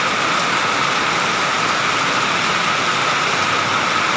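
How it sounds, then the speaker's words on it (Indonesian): Heavy rain pours at night in the town of Banjar, a dense, loud, constant hiss of water on surfaces with a faint vehicle engine rumbling underneath. "Hujannya deras sekali."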